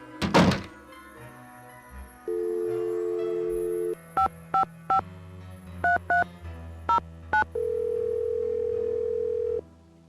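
In the Nancy Drew game The Final Scene, a theater ticket booth phone is picked up with a heavy thunk, then a steady dial tone plays, followed by a string of short touch-tone dialing beeps and a ringing tone.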